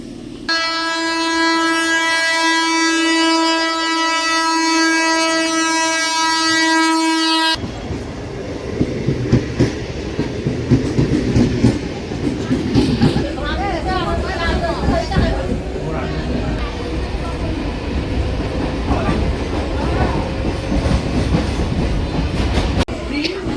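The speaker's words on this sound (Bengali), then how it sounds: "এটা আপের ট্রেনটা ঢুকলো রানাঘাট গেদে লোকাল এরপর পরে ডাউনের ট্রেনটাও ঢুকে" A train horn sounds one long, loud blast, then a Ranaghat–Gede local passenger train rumbles and clatters into the station while voices murmur nearby.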